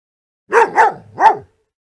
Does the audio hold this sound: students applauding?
no